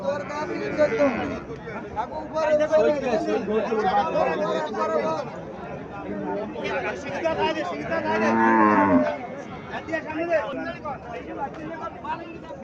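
An Indian Haryana cow moos in long, drawn-out lows at a cattle market, once near the start and again more strongly toward the end, while people chatter nearby throughout.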